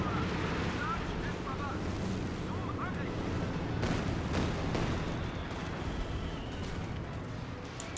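Artillery strike in the Company of Heroes 2 game: a dense, continuous barrage of booming blasts and rumbling gunfire fills the whole stretch, with sharper impacts standing out in the middle.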